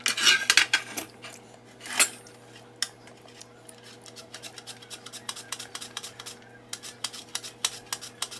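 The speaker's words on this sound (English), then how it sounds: "Now I'm going to scrape the seeds out" A spoon scraping seeds out of a halved cucumber, a run of quick, close scratchy scrapes and light clicks, uneven in rhythm and fairly quiet.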